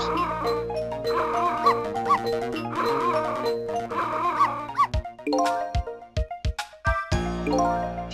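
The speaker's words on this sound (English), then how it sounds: "If you bark like that, how can anybody enjoy the pretty melody?" A dog barks repeatedly in the video game Ghost Trick, tonal yelps over a melodic music track, then a run of sharp, separate barks near the end, loud and close, with no talking.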